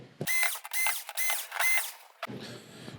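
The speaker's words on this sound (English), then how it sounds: "Now we get the four screws and the board should come away from the chassis." Screws being removed from the power supply board of a TCL 43S425 television. A cordless driver whirs in three or four loud, close bursts, followed by a softer rattling scrape.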